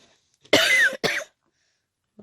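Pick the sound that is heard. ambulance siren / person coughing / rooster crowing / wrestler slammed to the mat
person coughing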